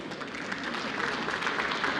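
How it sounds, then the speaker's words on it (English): Steady applause fills a hall at an exporter of the year awards ceremony, a continuous, even wash of many hands clapping at moderate distance, fairly faint. "another big round of applause"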